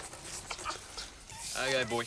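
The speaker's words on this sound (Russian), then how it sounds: "Хороший песик." A dog whimpers in short, high, tonal whines toward the end, close and fairly loud, after a stretch of quiet talk and background noise.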